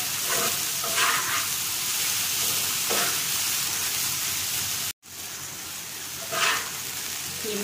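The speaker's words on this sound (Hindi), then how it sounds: "कीमे को हम फ्राई करते हैं हल्का सा" Minced chicken keema fries with garlic and onion in a pan, giving a steady close sizzle broken by a few scraping stirs, with no talking.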